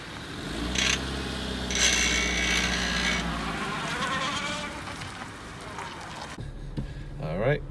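A $600 Honda Civic makes a continuous, harmonic grinding whine with rasping bursts layered over it, heard up close from inside the car before it cuts off near the end.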